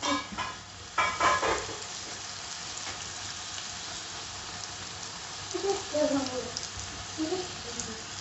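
Steady crackling sizzle of brinjal slices frying in hot coconut oil, with a few louder spatters and a faint voice murmuring briefly.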